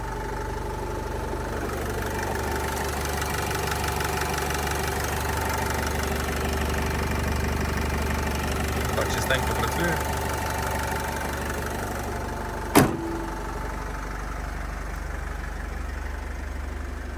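A 2013 Opel Vivaro passenger van with a 2.0 diesel engine rated at 115 hp idles close by, a steady, even low rumble with a faint clatter and one short knock near the end.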